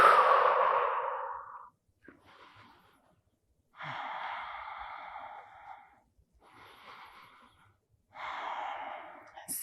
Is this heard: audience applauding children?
no